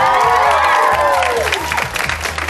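Studio audience at a celebrity-hosted Big Brother spin-off show applauding and cheering loudly, a dense steady wash of clapping with whoops and shouts that eases slightly near the end.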